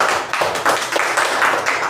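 An audience claps in a dense, steady round of applause at a business seminar.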